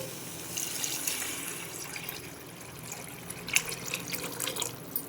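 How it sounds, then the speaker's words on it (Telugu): Water poured into a cooking pot over spices and lentils for tomato rice: a steady, moderately close watery splash and trickle running throughout, with a few brighter spattering bursts near the end. "ఇది కొంచెం వేగాక వాటర్ పోసుకోవాలి."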